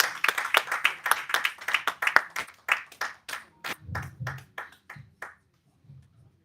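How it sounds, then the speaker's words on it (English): Scattered applause from a small audience at a film and TV summit panel, a loose run of distinct claps that gradually thins out and stops, with a few faint sounds after. "Big round of applause"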